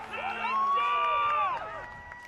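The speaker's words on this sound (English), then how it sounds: "You hear the crowd come alive." A high school football crowd erupts after a defensive sack, with a swell of cheering and raised voices that peaks and then fades over a couple of seconds.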